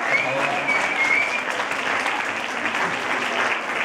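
A hall audience at a sewing gathering breaks into continuous loud clapping, a dense even wash of applause with no break.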